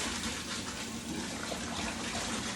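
Collard greens being washed, a steady wash of running and splashing water with leaves rubbed together, continuous and close with no talking.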